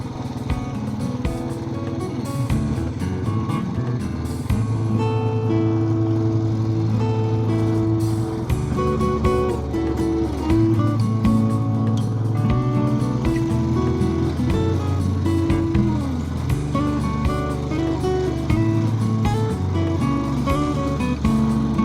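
A motorbike engine drones steadily while riding along a hill road near Morni Hills, a loud, close, continuous rumble with shifting pitch and wind noise.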